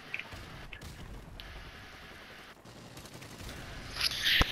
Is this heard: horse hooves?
no